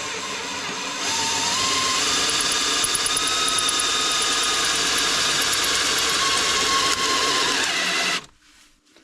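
A power drill bores two holes into a chainsaw part, running steadily and loud for about eight seconds with a whining tone before stopping abruptly into near silence.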